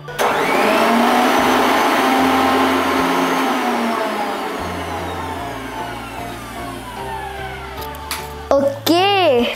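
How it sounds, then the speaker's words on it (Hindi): An electric mixer grinder whirs loudly as it grinds tomato chutney with a pinch of sugar and salt, a steady motor drone over about eight seconds before it winds down and a few short bursts and clicks follow near the end. "अभी चलो इसको ग्राइंड करते हैं।"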